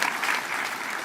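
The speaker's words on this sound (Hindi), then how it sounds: "चलो प्रोफेसर साहब के लिए तो ताली बजा दो" An audience at a Delhi Technological University talk on youth, technology and semiconductors applauds for the professor, a dense, steady wash of clapping that holds evenly throughout with no voices breaking through.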